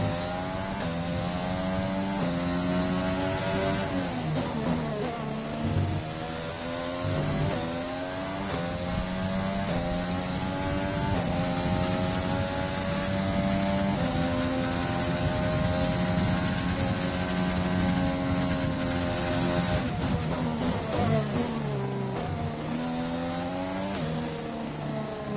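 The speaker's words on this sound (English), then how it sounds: "Yeah, and then you can hear the cars" Formula One cars in the racing game F1 2020 at the Russian Grand Prix, engines screaming and shifting pitch through gear changes and rising revs, loud and sustained over a long stretch with no speech.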